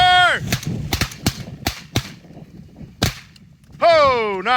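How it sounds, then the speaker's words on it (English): During a South Dakota pheasant hunt, several sharp shotgun bangs ring out at irregular intervals, loud and close, with electronic beeping tones at the start and end. "The last bang I heard was Shad"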